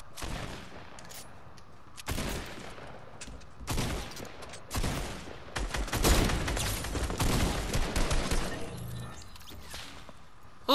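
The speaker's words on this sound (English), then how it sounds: "someone got a sniper" Fortnite gunfight with a sniper rifle in play: a string of sharp, loud cracks and shots spread irregularly across the scene, some isolated and some clustered, with whooshing game effects and no talking.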